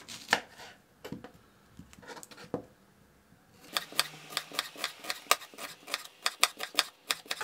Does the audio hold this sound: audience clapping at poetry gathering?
no